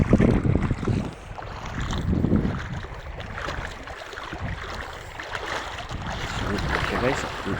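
A strong river current rushes and churns around someone wading across deep water, a dense near roar with wind buffeting the microphone throughout.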